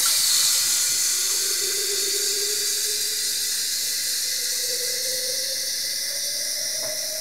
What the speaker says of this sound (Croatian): Sipat ćemo vodice.